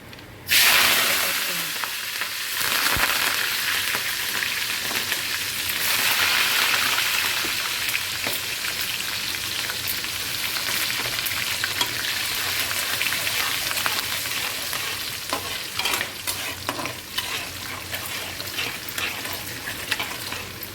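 Garlic, green chillies and curry leaves fry in oil over a low flame for a fish curry, making a continuous crackling sizzle like light rain that starts abruptly and stays close and even throughout.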